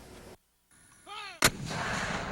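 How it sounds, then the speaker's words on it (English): Cannon fire rings out at Vicksburg Military Park during an Independence Day event: a single loud, sharp blast after a brief quiet stretch and some rising tones, followed by a long rumbling echo. "The sounds of cannons echo through the Vicksburg Military Park"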